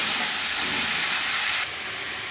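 Papaya and potato pieces sprinkled with salt fry in a pan, a loud, close, continuous hissing sizzle that drops slightly in level partway through.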